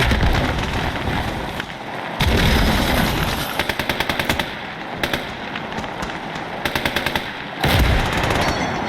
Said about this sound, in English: the cannon's going crazy because I'm controlling it